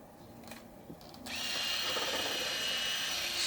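A Philips electric shaver switches on after a few faint clicks and runs with a steady, bright buzzing whir, close and continuous to the end.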